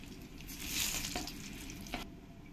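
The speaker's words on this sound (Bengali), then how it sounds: "এবার আমি এই তেলের মধ্যে 1 চামচ গোটা জিরে দিয়ে দেবো, এর মধ্যে দিয়ে দেবো তেজপাতা" Whole cumin seeds, a bay leaf and dried chilli sizzle and crackle in hot oil, a steady close frying hiss with a louder burst of spitting partway through.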